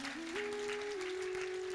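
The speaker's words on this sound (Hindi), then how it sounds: "लगता है बच्चों के लिए ताली बजाना चाहिए" An audience at a spiritual talk claps for children, a steady wash of applause under a sustained, wavering tone that holds throughout.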